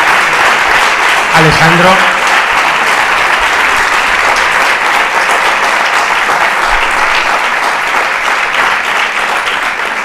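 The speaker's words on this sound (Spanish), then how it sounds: "Aplaudís antes de que haya terminado la frase" Loud, sustained applause from a large audience at the close of a talk, steady throughout with a single name called out briefly near the start.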